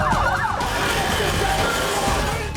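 Wailing ambulance siren with rising and falling sweeps, loud and close, over steady road traffic noise as an emergency vehicle pushes through red lights.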